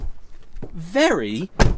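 A Citroen AX car door opens with a sharp mechanical click and clunk near the end, following a drawn-out, wavering voice close by.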